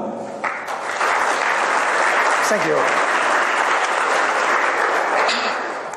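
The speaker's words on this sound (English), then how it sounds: "give him a warm round of applause and a big Hawaiian welcome" Loud, dense audience applause welcomes a speaker at a hacker security conference in Hawaii. It holds steady for several seconds, and someone briefly says a few words over it.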